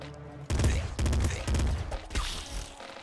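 Bursts of gunfire in the Nuclear Throne video game, several loud rapid volleys of sharp shots in quick succession, close and punchy with brief gaps between bursts.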